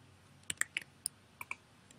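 Individual computer keyboard key presses, about six sharp isolated clicks spaced irregularly over two seconds, close and fairly quiet over a faint background hum, no talking.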